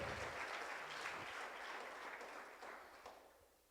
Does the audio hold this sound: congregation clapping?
yes